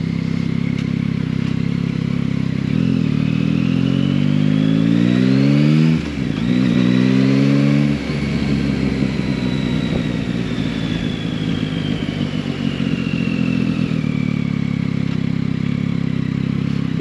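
Stock-exhausted three-cylinder engine of a Yamaha Tracer 9 GT motorcycle, loud and close, revving up through rising gears with a brief dip near six seconds, then holding a steady droning note for the rest of the ride.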